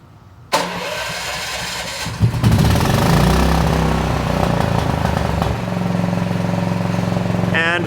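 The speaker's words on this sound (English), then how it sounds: "we're going to go ahead and start the generator on here" A building standby generator cranks and catches, then settles into a loud steady running drone with a shift in engine note partway through, heard close up and alone.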